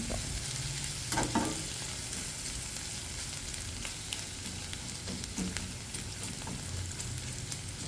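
Pieces of taro root sizzling in oil in a pan, a soft steady fry with a few stirring scrapes and clinks, quiet and close, with no talking.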